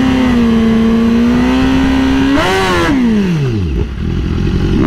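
A BMW motorcycle revs hard at a launch, its engine note holding steady, then climbing sharply and falling away as the revs drop, loud and close.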